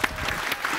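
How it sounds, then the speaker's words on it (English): Audience applause at the A MAZE. Berlin 2023 award show, a short burst of dense clapping from a crowd, steady and fairly loud for under a second. "another round of applause, everybody."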